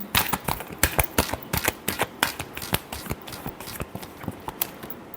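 Tarot cards are shuffled in quick, crisp riffles and flicks, a run of sharp close-up snaps in an uneven rhythm, heard alone with no talk.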